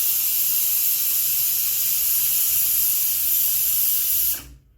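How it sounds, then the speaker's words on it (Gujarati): A pressure cooker on the stove vents a loud, steady high-pitched steam whistle while cooking spiced tempered rice, holding for about four seconds before cutting off abruptly into near silence. "તો આપણા કુકરની સીટી વાગે છે."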